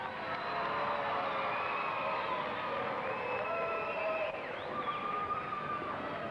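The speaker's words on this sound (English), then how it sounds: "how about a nice round of applause for gun loser" Crowd noise fills a wrestling match hall after a two-falls-to-one result, a steady dense roar of cheering and applause from a large audience, with a few faint voices calling out within it.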